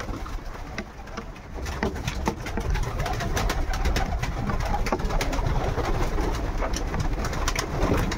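Racing pigeons cooing inside a loft, a continuous chorus of soft, overlapping coos and rustling from many birds at close range, with no talk.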